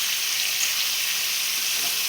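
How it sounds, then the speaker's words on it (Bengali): Chicken sizzling in butter in a pan, a steady, close, bright frying hiss throughout with no talking. "দেখো কেমন এটা ভাজা ভাজা হচ্ছে।"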